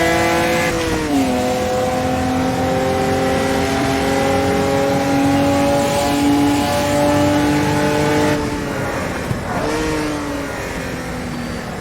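A racing car in a video game powers out of a hairpin in second gear on three tires with inside wheel spin, its engine note dipping and then climbing steadily, loud and close, with a second rise near the end.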